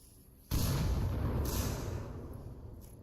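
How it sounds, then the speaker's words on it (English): Grenade blasts in the VR shooter Onward during a competitive team match: a sudden loud boom with a long rumbling tail, then a second burst about a second later, decaying under low background noise. "Lots of frags coming out."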